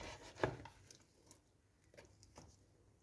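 A sharp knife chop into partly frozen chicken on a cutting board, followed by a few lighter, quieter cuts.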